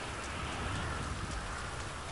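Steady, dense rainfall in Grand Theft Auto Online hisses continuously, a broad even wash of drops with no breaks.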